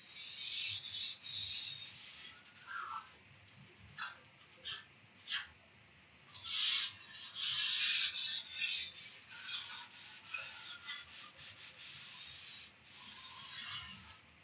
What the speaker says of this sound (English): The sandpaper really takes away all that excess P-Tex that we dripped into the gouges.